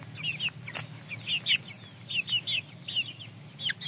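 Chickens, a rooster and hens, cluck and chirp in quick, repeated bursts at close range. Their short, bright calls come in an uneven rhythm over a quiet background.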